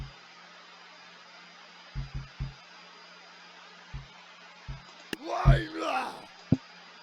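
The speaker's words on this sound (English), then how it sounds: "that is the sound of a battle cry berserker Viking ready for combat" A berserker Viking unit in Totally Accurate Battle Simulator lets out a loud, shouted battle cry that builds and falls over about a second, alone after a few soft low thumps, closed by a short sharp hit.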